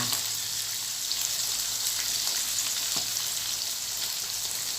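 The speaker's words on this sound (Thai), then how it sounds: "นำไปใช้ไฟกลางนะคะ ใช้ไฟกลางค่ะทอด" Fermented fish (pla ra) frying in oil over medium heat, a loud, steady sizzle with crackling pops running unbroken throughout.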